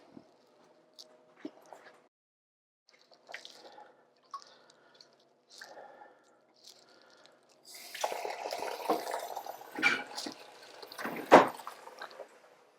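Running tap water rinses a toned cyanotype print in a kitchen sink, quiet drips and small splashes at first, then a steadier, louder wash of flowing water with a few sharper splashes near the end.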